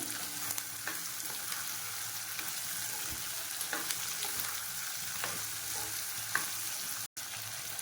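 Small eggplants sautéing in hot oil give off a steady, close sizzle, with occasional stirring scrapes and pops and a brief cut near the end.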